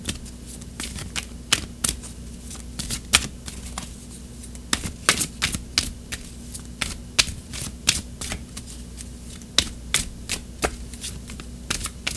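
Oracle cards being shuffled and drawn in a close, steady series of crisp riffling flicks and slaps, with a low constant hum underneath and no talking.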